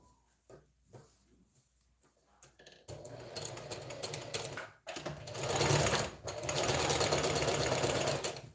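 A sewing machine stitching fabric while a top with gathers is made: a few short starts, then sustained loud whirring runs broken by a brief pause, close to the listener.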